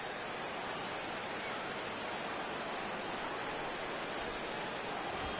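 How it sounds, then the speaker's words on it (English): Steady heavy rain pouring down over a ballpark in an MLB baseball video game, a dense, even hiss of drops with no breaks, constant in level throughout. "this rain is definitely complicating matters out there. It's really coming down over the past 5 minutes or so"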